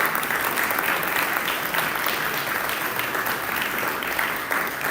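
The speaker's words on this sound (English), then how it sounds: "Let's give her a round of applause." An audience at a Rotary club meeting gives steady applause for a guest speaker, a full, even patter of many hands clapping at moderate volume without pause.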